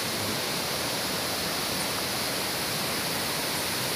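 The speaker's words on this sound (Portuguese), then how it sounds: "Tá vendo, gente? Cachoeira bonita." Waterfall at Tamanqueiro falls in Santo Aleixo, Magé, a steady, loud broadband rush of falling water with no voices.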